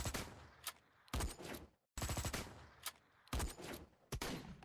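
Gunfire sound effect under documentary narration, with several loud bursts of rapid shots separated by short gaps and sharp single cracks, close and harsh.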